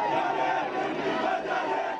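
Angry Palestinian crowd at a funeral procession in the town of Silwad, a dense roar of many voices shouting together, loud and steady throughout.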